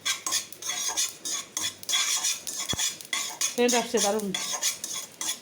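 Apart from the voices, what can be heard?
food boiling and being stirred in a pot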